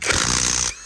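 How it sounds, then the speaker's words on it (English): A Greenworks 24V cordless impact wrench removing lug nuts while snow tires go onto a 2023 Honda Ridgeline gives one short, loud, rattling burst of under a second and then stops. "I think this might be my first impact wrench."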